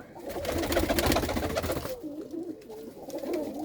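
Domestic pigeons, a kept breeding pair, coo repeatedly in a low rolling rhythm, close and fairly loud, with the calls continuing steadily and no one speaking.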